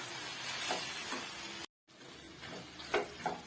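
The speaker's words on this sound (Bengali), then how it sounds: "দিয়ে আর একটু ভাজা ভাজা করে নেবো।" Pasta frying in a pan with tomato sauce and chili sauce, a steady soft sizzle with occasional stirring scrapes, briefly cut off then resuming, fairly quiet and close.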